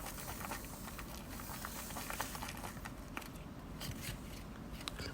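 Soft, continuous sticky crackling and faint wet popping of Japanese natto beans being stirred, steady throughout at close range with no voices.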